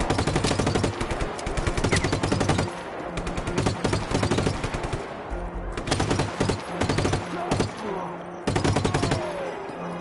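Repeated gunfire bursts from an enemy's shotgun in a video game, loud and dense, with clusters of sharp blasts separated by brief lulls over a steady game backdrop.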